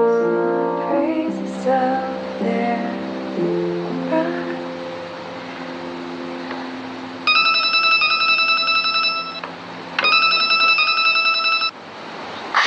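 A phone is dialed and the call rings, with soft descending tones followed by two long, repeated electronic ringing bursts, each clear and close with a pause between them.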